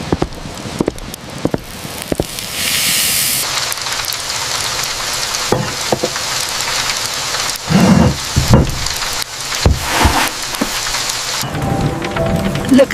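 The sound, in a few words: heavy rain with thunder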